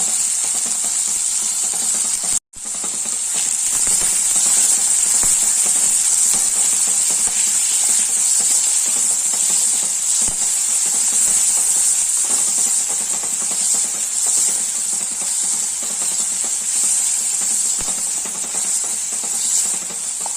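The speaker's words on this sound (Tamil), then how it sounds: "லேசாக வதங்கினா போதும்." Onion and tomato sauté in a pan for a home tomato curry, giving a steady, loud broadband sizzle and hiss that runs almost unbroken, with one brief dropout early on and occasional faint stirring.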